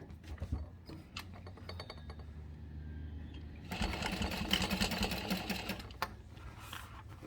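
A sewing machine stitches a curved garment seam at a 5/8-inch seam allowance. A few light taps and clinks come first, then a dense, steady whirring run of stitching for a couple of seconds before it eases off.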